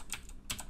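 Keys on a computer keyboard clatter in three short bursts while code is typed into an Android running-tracker app, close and fairly quiet, with no talking.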